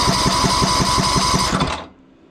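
An old, cheap tractor engine cranks on its starter with a steady, rhythmic chugging for under two seconds before the starter cuts off abruptly, leaving near silence.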